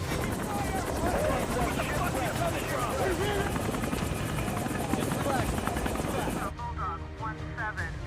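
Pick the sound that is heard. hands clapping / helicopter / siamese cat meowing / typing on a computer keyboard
helicopter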